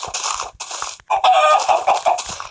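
Minecraft Pocket Edition chickens clucking close by in a busy, continuous run of calls, with no voices.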